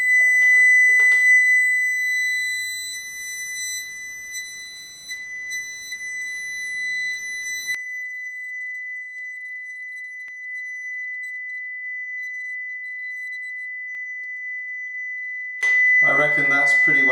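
A steady pure test tone plays through a repaired hi-fi tweeter from a classic omnidirectional speaker, holding a single high whistle-like pitch for many seconds, with a brief burst of handling noise near the start and the end.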